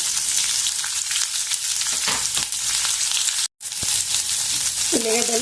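Green chillies, curry leaves and onions fry in hot oil, a steady bright sizzle throughout with a brief break partway through, and a few faint stirring scrapes.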